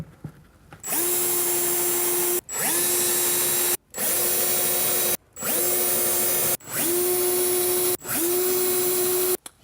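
A power drill bores pilot holes for a soft-close larder runner in six loud, even bursts, each whining up to a steady pitch and cutting off sharply, with short silent gaps between.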